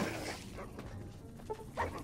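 Dog-like creature in the game Fallout: New Vegas giving a short bark and yip amid combat noise, fairly faint and mixed with game sounds and a brief voice.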